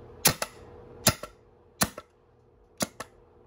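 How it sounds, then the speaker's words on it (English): A 3D-printed HPA Nerf blaster core at 100 PSI fired four times with no darts, each a sharp, loud pneumatic crack followed by a softer echoing pop, spaced under a second apart with quiet between. "I can also stick my finger back here to fire the core without any darts in it"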